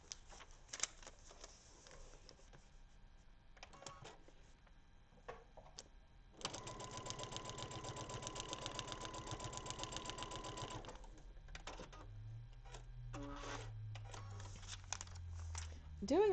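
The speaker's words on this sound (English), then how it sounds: "Let's sew it." A sewing machine stitches a paper-pieced quilt block in a steady run of about four seconds. Paper rustles and quieter handling sounds come before it, and a voice speaks near the end.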